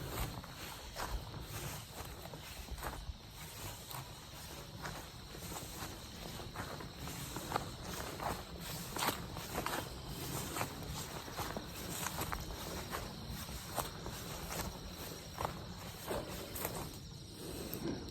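Footsteps crunch through forest ground, a continuous shuffle of leaf litter and twigs over a long stretch, close and steady, with insects buzzing faintly in the background and no talking.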